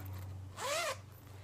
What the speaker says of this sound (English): Look at that cute little zipper pull.